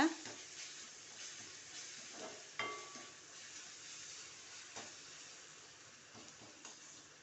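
Steady frying sizzle of prawns sautéing in a pan, with occasional scrapes and stirring clatter; a continuous hiss throughout at moderate level.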